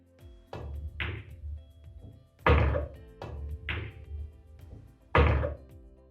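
Pool balls struck on a billiard table as a 9-ball is played into the side pocket, with several distinct sharp clacks and thuds at irregular intervals, heard close and alone.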